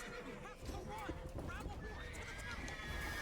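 A horse neighs and its hooves clip-clop at a gallop in the Witcher 3 video game, with the whinny rising over steady game noise and someone talking throughout.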